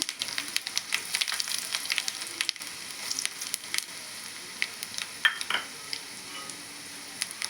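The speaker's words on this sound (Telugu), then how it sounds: "రెండు రెండు మిర్చి వేస్తున్నాను" Steady crackling sizzle of green chillies frying in hot oil with tempering spices, with sharp pops and spits scattered throughout, close and moderately loud, no voices.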